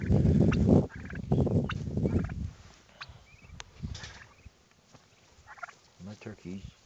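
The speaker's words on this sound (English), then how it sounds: "My turkeys" Several free-ranging turkeys gobble in bursts, loud and close, with rapid rattling calls and some farmyard rustling between them.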